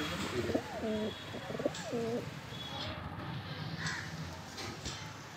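Tumbler pigeons at a loft in Beldanga, Murshidabad give two soft, low cooing calls, with faint rustling and outdoor background noise.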